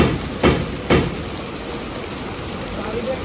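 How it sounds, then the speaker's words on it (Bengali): Heavy rain falls steadily in a broad hiss, with a couple of loud thuds near the start, no one speaking. "সকাল থেকে বৃষ্টি হচ্ছে"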